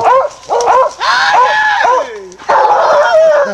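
Hunting dogs bark and yip excitedly in close, rapid bursts while chasing a caracal in the South African Eastern Cape bush, the calls overlapping in a frantic, uneven rhythm.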